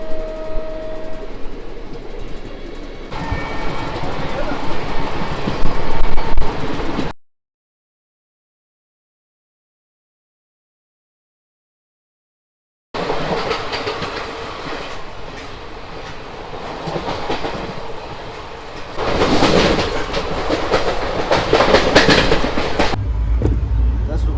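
A moving train rumbles and rattles steadily, its clatter interrupted by a stretch of silence before the noisy ride resumes, louder near the end.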